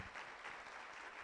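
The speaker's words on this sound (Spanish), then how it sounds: "les damos un fuerte aplauso al maestro" Applause from an audience at a Mexican judicial school lecture, a steady broadband wash of clapping lasting the whole moment at moderate, fairly faint level with no voices.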